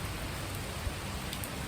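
Rain falls on a campus with a soft, even hiss, quiet and steady, with a faint patter of drops and one small thump midway and no speech.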